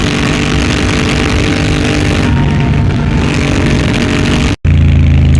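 Motorcycle exhaust roaring loudly and steadily on an open road, engine revving hard throughout, with a brief sharp cutoff near the end before the engine note picks straight back up.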